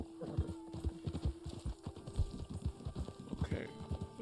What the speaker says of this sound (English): Oh, my horse, right. My horse should be fed.